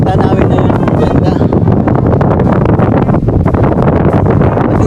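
Strong wind at the Pililla windmills in Rizal, Philippines buffets the microphone with a loud, continuous roar and rumble throughout, with no pauses.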